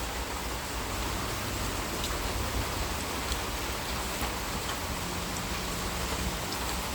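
Rain falls steadily as an even, close hiss, with faint drops ticking on a surface now and then. It runs unbroken for several seconds with no one speaking.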